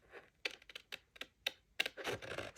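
Scissors snip and trim a paper craft piece for a rustic harvest treat and gift card holder, giving a quiet, close series of short crisp cuts and paper rustles alone.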